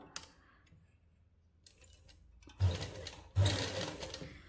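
A sewing machine stitches seams along the sleeves of a winter suit for a toddler boy, with soft handling noise followed by two loud low bursts of machine running near the end, no voices.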